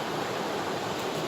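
Squaw Valley Creek in Northern California, flowing as a steady, broadband rush of water, loud and close with no voices.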